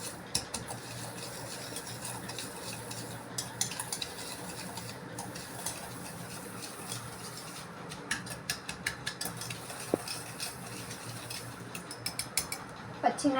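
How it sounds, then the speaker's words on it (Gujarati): Spoon stirring ghee and powdered sugar together in a bowl, giving a steady stretch of soft scraping with occasional light clinks against the bowl, close and without talk. "આજે આપણે નાખીશું ઘી આટલું, પછી એમાં નાખીશું થોડું બુરું ખાંડ. એ બંનેને મિક્સ કરીશું."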